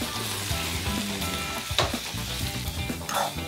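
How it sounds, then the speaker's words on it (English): Black beans braised with cumin seed, tomato paste, onion and a little vegetable broth sizzle steadily in a pan, a continuous close frying hiss with faint stirring scrapes and clicks, no talking. "It's sizzling."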